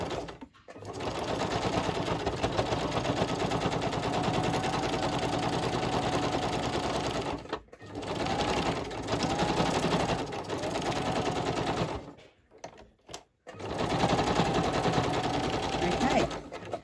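A domestic sewing machine runs in long steady bursts, stitching zigzag and straight seams through fabric scraps, with brief pauses between runs; the motor's whir and needle chatter are close and fairly loud.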